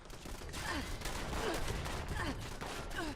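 Automated turrets firing in the Fallout 76 video game inside a reactor facility, a dense, loud burst of rapid gunfire that keeps going through the whole moment with a few sharper shot accents.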